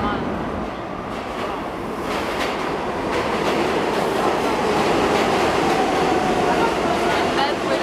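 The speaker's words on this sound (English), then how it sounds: "Here comes the train." A train passes close by with a steady, loud rumble and rolling rail clatter that fills the whole stretch without letting up.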